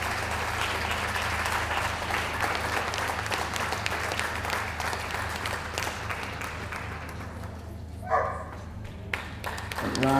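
Audience applauding a dog show at Darlington as an Australian Shepherd is shown, steady dense clapping for about eight seconds that then thins out, with a few faint sounds near the end.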